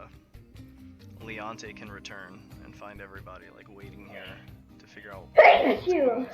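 One sharp, loud sneeze bursts out near the end, followed by a softer trailing breath. Before it, people talk quietly in a room.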